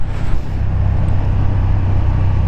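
A KTM 1290 Super Duke R motorcycle engine roars loud and close with a deep, steady drone, as if heard while riding, for a couple of seconds.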